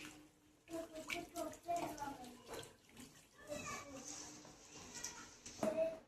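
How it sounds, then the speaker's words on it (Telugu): Water poured into a cooking pot of spicy home-style curry, a splashing pour in short bursts with background voices and a child's chatter nearby. "ఇందులో కొంచెం వాటర్ వేసుకోవాలి గైస్"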